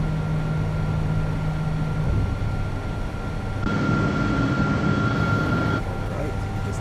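Simulated airliner climbing out after departure from Chiang Mai toward Bangkok, with a steady broadband engine roar and a constant whine, shifting in tone partway through.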